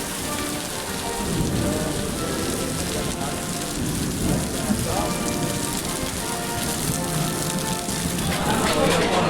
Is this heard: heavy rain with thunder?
yes